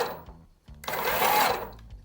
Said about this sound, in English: then the motor goes. This is the top speed.